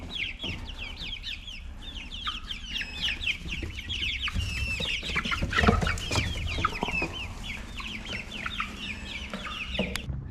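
A flock of chickens clucks and chatters continuously at close range while pecking in a garden, with overlapping calls and soft scratching throughout and no voices.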